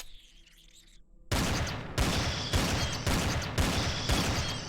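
Sniper rifle shots in Empyrion: Galactic Survival, a faint hum and then a series of about five loud sharp cracks at a steady pace, each fading into a ringing tail.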